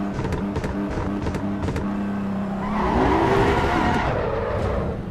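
A racing-game car with its pit limiter engaged, at the Nürburgring Nordschleife parking lot: a loud, steady engine drone held at a capped pitch, then a rising, whining surge with some tyre noise, close and continuous.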